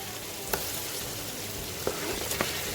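Tomatoes sizzle steadily in a hot frying pan, a dense hiss with a few sharp clicks of stirring, no voices.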